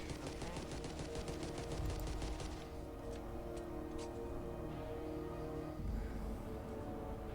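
Rapid automatic gunfire from a shooter in The Outer Worlds, a sustained burst of shots in a steady machine-gun rhythm, then a few scattered single reports against continuous game background noise.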